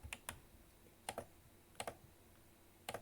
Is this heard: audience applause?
no